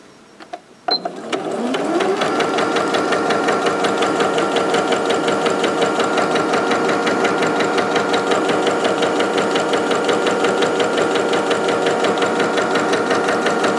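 Near and steady, a quiet sewing machine stitches fabric for a dry hot water bottle, starting after a couple of clicks and then running continuously with a fast, even needle rhythm for over ten seconds.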